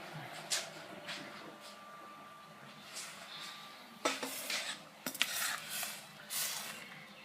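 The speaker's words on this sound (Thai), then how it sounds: "ตักข้าวต้มของเรา ร้อนๆเลย ใส่ชามนี่เยอะมากเลยนะ" Hot chicken rice porridge ladled into a bowl in a home kitchen, giving soft intermittent scoops, clinks and wet slurps of the ladle against the pot and bowl, fairly quiet and close.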